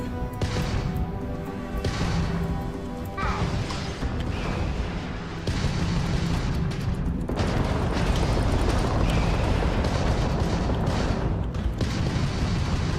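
Missiles launching and exploding in space combat in the video game Starfield, heavy booming blasts and rumbling bursts layered over continuous loud engine noise, with no voices.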